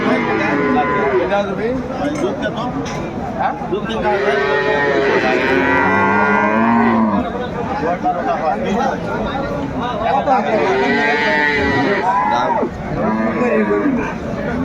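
Dairy cows and calves at the Aftabganj cattle market in Dinajpur give two long, loud moos a few seconds apart. People talk nearby and market chatter fills the background.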